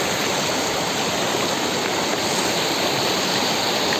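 A diverted stream flows strongly at a fishing spot, a loud, steady, close rushing roar that stays even throughout with no voices.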